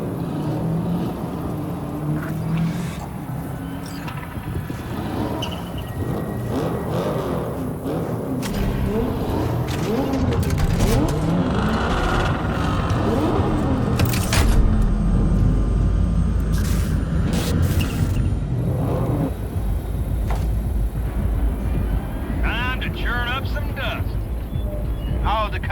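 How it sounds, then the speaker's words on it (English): Car engines start up and rev in a desert convoy in the video game Cyberpunk 2077, a steady loud rumble building and swelling with game music and talk layered over it. "Start your engines, folks."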